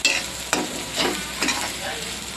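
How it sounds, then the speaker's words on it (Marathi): Spatula stirring and turning food in a hot frying pan while cooking sukhi mataki, with a few distinct scraping strokes over a steady soft sizzle, close and alone. "असंच आपण खालीवर करूया"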